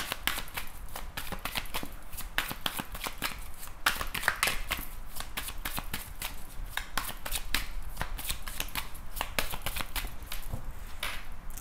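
Tarot cards being shuffled by hand, a long run of quick crisp riffling flutters and soft slaps repeating steadily, close and fairly quiet with no talking.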